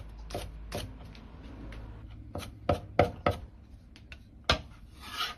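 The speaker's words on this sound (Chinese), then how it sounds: "少许的大葱切成葱花" A knife chops scallions into small rings on a cutting board, giving several crisp, close thuds spaced irregularly, some in quick succession, in a quiet kitchen.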